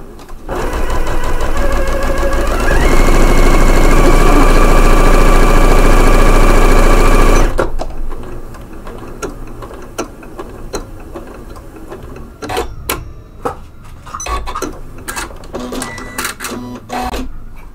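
A Janome Memory Craft 9480 computerized sewing machine stitches at speed, giving a loud, steady mechanical whir for about seven seconds before stopping, followed by quieter clicks and handling noises.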